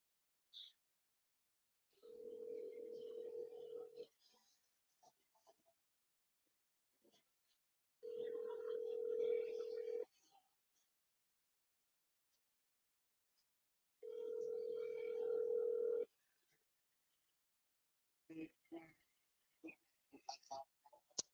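Ringback tone on an outgoing phone call while waiting for someone to answer: three long, even tones, each about two seconds, spaced by silent gaps, followed by a few faint clicks and a voice.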